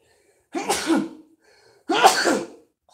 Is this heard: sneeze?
yes